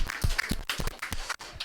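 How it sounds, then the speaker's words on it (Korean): Children's church service congregation clapping together in unison, a loose rhythmic series of hand claps close by, fairly loud, with no talk over it. "우리 다 함께 박수."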